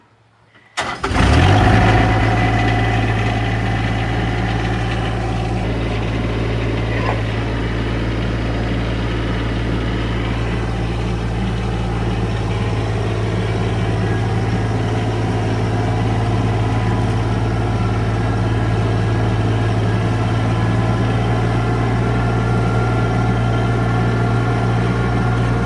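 Farm tractor engine cranks over and catches, then settles into a loud, steady diesel idle that runs on without pause, with no talk over it.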